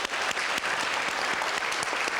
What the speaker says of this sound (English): Let's give them, please, a round of applause.